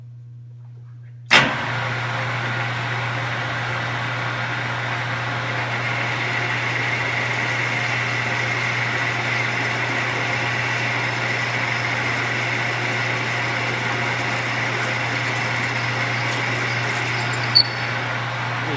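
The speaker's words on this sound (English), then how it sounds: "So we're going to go ahead and turn the machine on and just cut this off." Lathe started up to cut off a part for a custom wiper shaft mount with a parting tool, switching on abruptly and then running with a steady, loud, even hum and whine, with a faint tick near the end.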